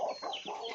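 A short burst of close clucking from backyard hens and a rooster, two or three quick calls with no voices.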